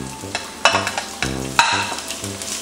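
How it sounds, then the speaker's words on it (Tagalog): Chopped onions are sautéed in a hot pan, sizzling steadily while a utensil scrapes and stirs in several sharp strokes, close by and without any talking. "So ngayon guys, gigisa na natin tong sibuyas."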